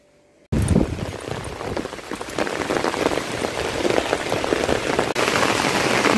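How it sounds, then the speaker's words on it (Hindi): Steady rain falls and patters on a surface nearby, a dense continuous hiss that starts abruptly and keeps going. "बारिश भी हो रही है।"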